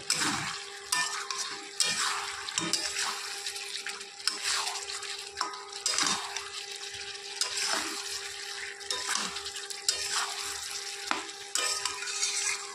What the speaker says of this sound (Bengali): আর দিয়ে দিচ্ছি অল্প সামান্য পরিমাণে গোলমরিচ গুঁড়ো দিয়ে আবার ভালো করে নেড়ে চেড়ে দিতে হবে।